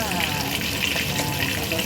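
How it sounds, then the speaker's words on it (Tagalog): Fish sizzles and crackles in hot oil, a dense, continuous frying hiss heard up close without pause. "nagpiprito ko ng isda"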